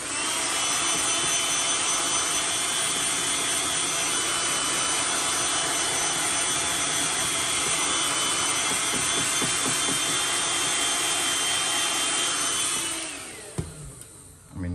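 A heat gun blows steadily and loudly while heat-setting fresh paint on a flat-sided plopper fishing lure, a constant broadband roar lasting about thirteen seconds before it cuts off and a few light handling knocks follow.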